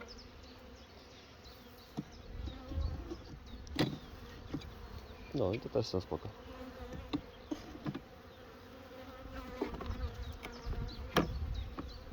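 Steady insect buzzing of honeybees at a hive hums throughout, close and continuous, with clicks and handling noises and a brief spoken remark in Polish.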